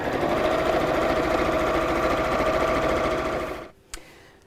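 A sewing machine stitches a fabric cosmetic bag with handles, a close, steady mechanical whirr that runs continuously for a few seconds, then stops, followed by a single soft click.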